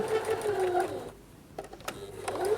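A sewing machine back stitches to tack a facing onto a skirt seam, its motor whirring in a steady run, dropping out briefly, then starting again.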